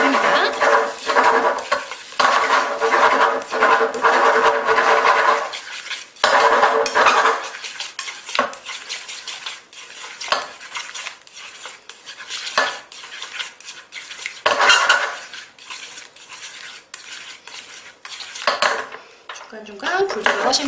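Eggs being stirred and fried in a pan for a Spanish omelette: steady sizzling with rapid scraping and clinking of utensils against the pan, near and continuous, briefly pausing, with no talk over it.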